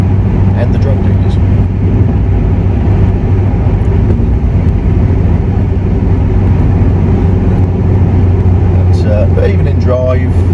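A BMW 530d M-Sport E60 pulls away under acceleration, heard from inside the cabin as a loud, steady, low engine drone with road rumble that holds without a break.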